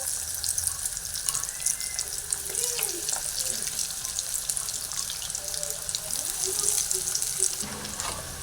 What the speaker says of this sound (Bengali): লো টু মিডিয়ামে রেখে আমি সমস্ত ফিশ ফিঙ্গারগুলো ভেজে নিয়েছি